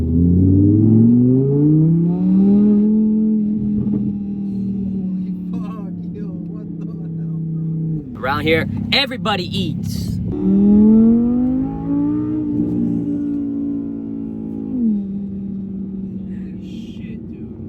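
A V10 car pulls away and accelerates, its deep engine tone climbing and holding steady for long stretches, loud and close inside the car. Someone speaks partway through.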